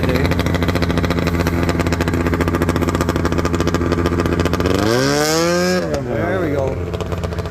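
A loud Yamaha snowmobile engine idles and then revs up and pulls away, its pitch rising and falling near the end, with a person talking over the steady drone.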